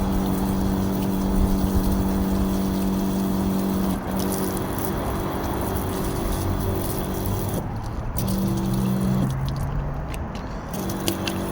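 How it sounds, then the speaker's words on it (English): Steady mechanical drone with a continuous low hum and a constant wash of spray, likely a pressure washer cleaning dirty camper wheels, running without pause and loud throughout, with no talking. "I'm cleaning these dirty ass wheels"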